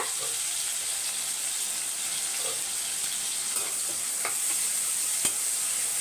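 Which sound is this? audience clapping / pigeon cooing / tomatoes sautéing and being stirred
tomatoes sautéing and being stirred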